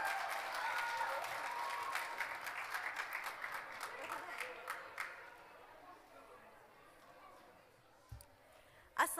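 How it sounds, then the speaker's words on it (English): An audience at the opening session of an event applauds with dense, fairly distant clapping that fades over several seconds, with murmuring voices under it and a couple of louder knocks near the end. "A big round of applause, guys."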